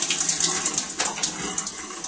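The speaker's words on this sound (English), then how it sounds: "he's going to just put some warm water on his arm" Warm water running from a tap onto a person's arm during a skin-cleansing demonstration, a steady close splashing hiss with small surges, no talk.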